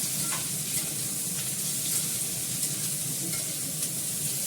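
Onions and already-fried potatoes sizzling in hot oil in a pan, a steady dense frying hiss with light stirring, close and continuous, no talking.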